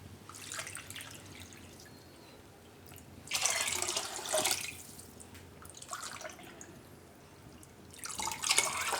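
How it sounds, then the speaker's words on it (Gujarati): Water poured into a pot of mixed dal khichdi with rice and lentils, coming as a few separate splashing, trickling pours with quieter pauses between them, close by, no talking. "તો હજી આપણે એમાં 2 કપ બીજું નાખીશું પાણી"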